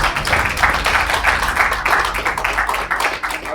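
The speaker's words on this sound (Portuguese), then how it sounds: "dê palmas para Jesus" A church congregation claps together for Jesus at a prayer service, a steady dense patter of many hands close by that holds evenly throughout.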